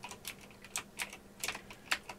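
Someone types on a computer keyboard in a quiet room: scattered, irregular key clicks, some in quick pairs, fairly soft and close, with no voices.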